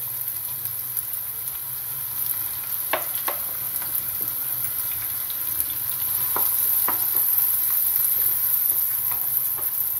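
Onions fry in hot oil with a steady, close sizzle that keeps going throughout, broken by a few sharp clicks and scrapes of stirring.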